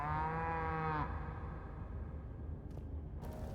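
A brazen bull in a video game lets out a loud, drawn-out cow-like moo that ends after about a second, followed by quiet background and a couple of faint clicks.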